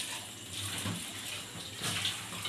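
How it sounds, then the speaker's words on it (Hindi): Water pouring and splashing steadily into a pan of cooking masala for mango pickle, a continuous close hiss with a brief louder gush near the end. "थोड़ा आप पानी भी ऐड कर दिएगा इसके अंदर"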